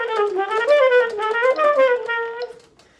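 A fast melodic practice exercise at 280 beats per minute on a single wind-like instrument, notes running smoothly up and down before trailing off, played alone and up close.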